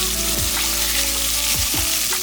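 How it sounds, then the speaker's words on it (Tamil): Two handfuls of small shallots tossed into a hot pan of oil for a goat trotters paya curry, giving a loud, steady close-up sizzle with a few soft clatters as they land and are stirred. "இப்போ சின்ன வெங்காயம் இதில் எடுத்து போட்டுக்கலாம்."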